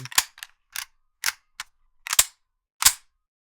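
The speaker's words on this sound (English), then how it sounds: "then we have the entire reload sound like this" A series of metallic clicks and clacks from a gun reload in a video game, irregularly spaced over a few seconds, like a magazine being swapped and a slide racked; no voices.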